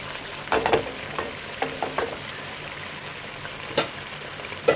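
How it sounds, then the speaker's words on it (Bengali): Egg curry cooks down in a pan, its gravy reducing with a low continuous sizzle and occasional light stirring taps. "একা একাই সুন্দর মতন রান্না হয়ে যাবে আর ঝোলটা আর একটু শুকাই নেব"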